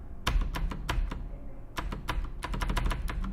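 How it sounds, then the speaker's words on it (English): Loud computer keyboard space bar tapped repeatedly during Unity platformer play, in quick irregular clusters of sharp close clicks with short gaps. "my keyboard is quite loud, so you can hear me tapping the space bar."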